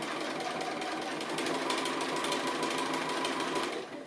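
A sewing machine stitches appliqué pieces, running back over earlier stitching. It gives a steady, close mechanical whir with a fast rhythmic needle chatter that lasts the whole four seconds, with no voices.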